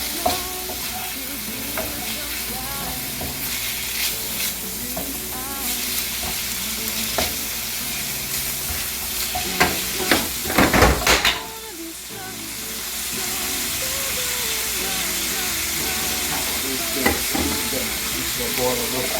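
Bacon for charro beans fries in a pan with a steady, dense sizzle and crackle, broken by a burst of louder stirring and scraping midway before the hiss settles back in.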